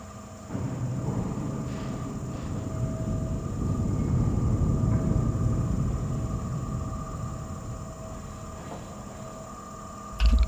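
Deeprun Tram in World of Warcraft riding through its tunnel, a steady low rumble and rolling drone that holds for about ten seconds with a faint mechanical hum above it and no talking.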